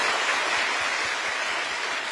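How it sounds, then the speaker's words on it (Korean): An audience of new government managers applauds at a lecture in a hall, a steady, dense roar of many hands clapping at once that holds evenly for two seconds with no talk over it. "여러분 박수 부탁드립니다"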